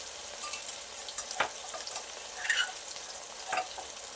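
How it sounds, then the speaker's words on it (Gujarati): Tomatoes and onions sizzling in a pan for a Gujarati masala khichdi, a soft continuous fry with scattered stirring clicks and scrapes, close by and fairly quiet, without talk. "હવે આ ટામેટાં અને ડુંગળી સરસ પાકવા દઈએ."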